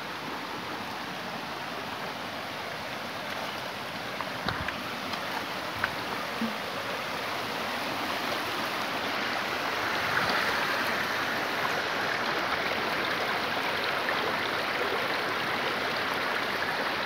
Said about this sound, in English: I'm standing in the middle of the river.